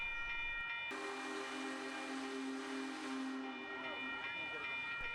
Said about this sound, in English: Union Pacific's Big Boy 4014 storms through Elmhurst, a thundering echo of America's industrial glory.